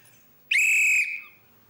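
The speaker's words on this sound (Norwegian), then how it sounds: "Og så blåste hun fløyta si," One sharp, shrill blast of a whistle, lasting about half a second, loud and close against a quiet background.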